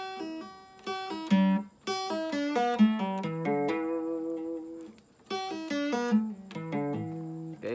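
A guitar picks a bluesy pentatonic lick, with quick plucked notes, bends and pauses in an uneven phrase, played close and clear with no talking.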